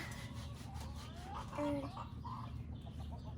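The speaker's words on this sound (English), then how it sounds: "What's that noise a rooster makes?" A chicken clucks briefly in the middle, a short squawky call over steady background noise.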